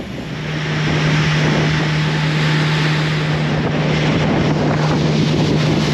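Steady headwind rushes across the microphone over a low, constant boat engine drone on Santee Cooper Lakes, with no voices.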